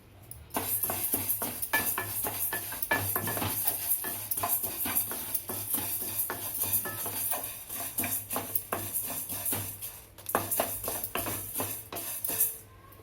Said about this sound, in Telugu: ఇవి కొద్దిగా లైట్గా వేయించుకుందామండి అన్నిని